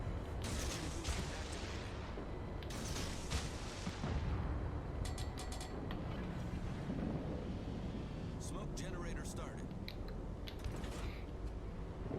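A ship detonates during a World of Warships Legends naval battle, with heavy booming blasts and gunfire-like bursts rolling over a constant low rumble of battle noise.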